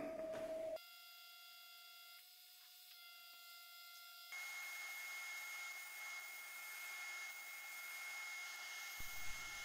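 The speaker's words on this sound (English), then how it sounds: "so here we are on the vacuum chuck." Woodturning lathe holding a poplar crotch lidded vessel on a vacuum chuck, giving a steady motor whine and airy hum with a high tonal whistle, briefly quieter at the start, then a louder continuous drone with no talking.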